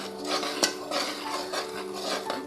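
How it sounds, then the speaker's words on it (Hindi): Spoon scrapes steadily around a pan of semolina and gram flour roasting for halwa, close and fairly loud, with one sharp metallic clink among the continuous stirring. "हमने साथ साथ चम्मच चलाना है ताकि अगर कोई गुठली बन भी रही है तो वो साथ साथ रिमूव होती जाए।"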